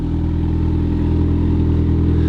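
A car engine runs at a steady idle, a continuous low throbbing rumble through the exhaust, close and unbroken with no talking.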